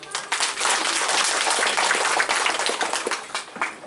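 Audience applause for mama-mama and bapak weavers at a weaving empowerment program launch in Sikka, Maumere, Flores: dense, sustained clapping from a crowd, loud and steady throughout.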